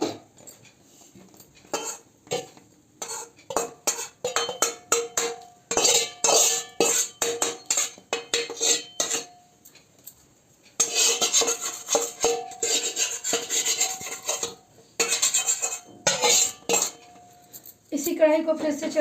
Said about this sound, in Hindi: अब मैं इसे दूसरे बर्तन में निकाल लेती हूँ।